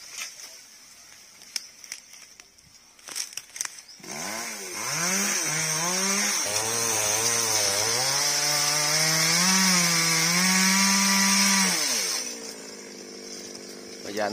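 A chainsaw cuts a branch high in a very tall, large tree. After a few scattered knocks, the engine whines loudly and steadily, rising and falling in pitch for about eight seconds before dropping off, with voices faintly in the background.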